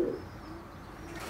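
Pigeons coo softly at close range, a single low call at the start followed by quiet background hum.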